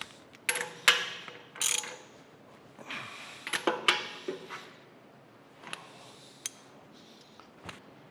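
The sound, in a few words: bolting down steam stoker engine crankshaft parts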